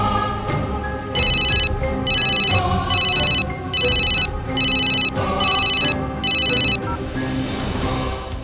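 A phone rings in repeated electronic bursts, about seven evenly spaced trills over a busy background of other sounds.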